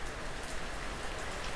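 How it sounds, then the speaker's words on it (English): Heavy rain pouring outside a back porch, a dense constant patter and hiss of drops on surfaces, close and uninterrupted with no talk. "I'm on this back porch and it's raining like a motherfucker"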